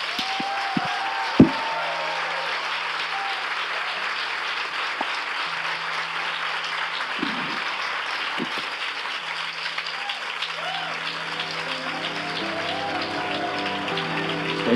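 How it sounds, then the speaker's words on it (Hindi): A church congregation clapping in praise to the Lord, dense sustained applause that fills the room for a long stretch, with faint sounds beneath it. "आइए हम प्रभु के लिए एक अच्छी ताली बजाएंगे।"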